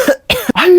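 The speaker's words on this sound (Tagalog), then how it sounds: "inuubo ka ba" A child coughs several times in quick bursts, close and loud, with a short rough throat-clearing quality between the coughs.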